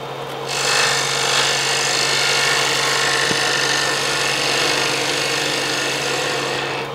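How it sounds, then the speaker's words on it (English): A reverse angle cutter scrapes steadily inside a wooden mortar bowl turning on a lathe, giving a continuous raspy cutting hiss over the motor's steady hum, close and loud, with no talk. "with the reverse angle cutter so that I'm cutting to the right, which would be downhill to the fibers inside the bowl"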